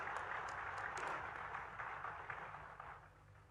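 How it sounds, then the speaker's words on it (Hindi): An audience at a state-level youth festival in Sawai Mansingh Stadium claps to welcome a guest, a fairly faint, diffuse patter of applause that fades gradually toward the end. "एक बार जोरदार ताली बजाकर उनका स्वागत करिए"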